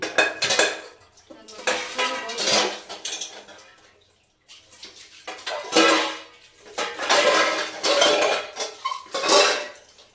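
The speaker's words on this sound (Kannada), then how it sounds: "ಇವಾಗ ಪಾತ್ರೆ ತೊಳಿತಾ ಇದ್ದೀನಿ" Dishes and cutlery clatter and clink in repeated bursts while being washed, close by, with short quiet gaps between rounds.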